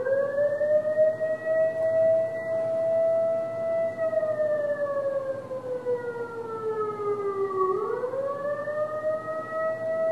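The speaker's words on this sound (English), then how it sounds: "I had a tape recorder with a loop of siren" A loud siren wails on its own from a tape-recorder loop, a long steady tone that slowly sinks in pitch and then climbs back up.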